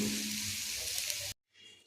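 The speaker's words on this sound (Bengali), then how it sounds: "এইভাবে লাল লাল করে সবগুলো ভেজে নেব। আলু কারকল ভাজা করে নিচ্ছি" A steady, close hiss of boiled potatoes frying in oil cuts off abruptly, then resumes faintly after a brief silence.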